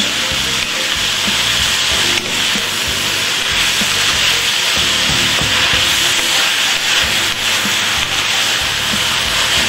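Chopped vegetables sauté in a pot for Creole jambalaya, giving a steady, close, broadband sizzle with soft scraping and stirring through the whole stretch, with no talking.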